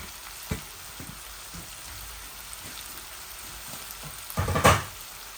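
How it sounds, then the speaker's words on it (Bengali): Potatoes fry in oil for a sour bata fish curry with tomato and olive, giving a faint steady sizzle with a few small pops and a louder crackling flare near the end. "এই আমি আলুগুলো এইভাবে ভেজে নিচ্ছি।"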